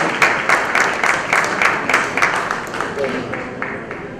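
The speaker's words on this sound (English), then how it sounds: "So big round of applause and thank you so much." An audience at a philanthropy awards night applauds with steady, dense clapping that slowly fades over a few seconds.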